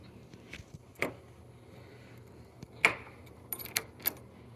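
Keys jingle and clink in short, faint bursts while a Kwikset SmartCode 955 keypad lever door lock is fitted, with a few sharp metallic clicks scattered over a quiet background.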